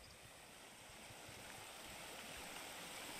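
A forest stream flows with a soft, continuous rushing and gurgling, faint and steady throughout with no voices over it.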